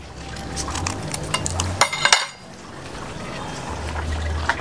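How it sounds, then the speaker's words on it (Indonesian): Coconut milk poured from a sachet into a pan of pumpkin, tofu and tempeh yellow curry, a brief liquid splash with a clink of the pan and utensil against steady kitchen background, no talk. "Tinggal tambahin santan."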